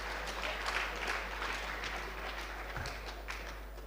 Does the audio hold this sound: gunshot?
no